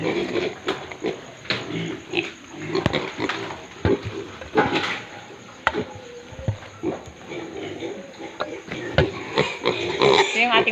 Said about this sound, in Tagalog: Ito yung ating mga piglets na 43 days old today.